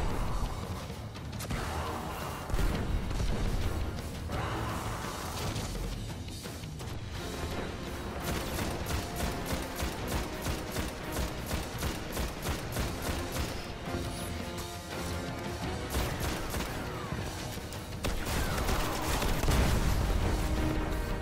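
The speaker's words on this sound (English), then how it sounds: "Oh, okay, and he's shooting at me." Continuous gunfire and explosions from a boss fight in the video game Destiny, with dense rapid shots and booms layered over a loud game soundtrack throughout.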